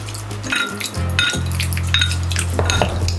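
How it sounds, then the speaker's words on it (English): A knife chops cooked beef for birria tacos on a board, a series of irregular sharp knocks and clinks over a low steady kitchen hum, close by with no talk. "I'm just gonna come and just give this a quick chop."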